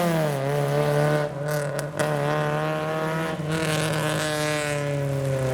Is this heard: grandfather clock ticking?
no